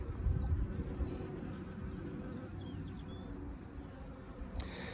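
Honey bees hum steadily from an open hive during swarm-prevention work, a dense low buzz that stays even throughout, with a brief sharper rise near the end.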